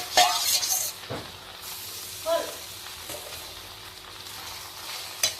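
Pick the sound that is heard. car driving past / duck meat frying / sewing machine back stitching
duck meat frying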